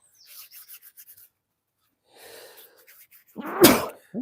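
Some quiet rustling and breathy sounds, then a single sharp, loud sneeze near the end.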